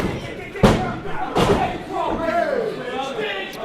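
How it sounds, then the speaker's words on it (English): At an indie pro wrestling show, a wrestler's head is bounced off the ring mat, landing as two sharp, loud thuds about a second apart. A crowd murmurs and a commentator talks throughout. "As you see Andrew bouncing his head off the mat."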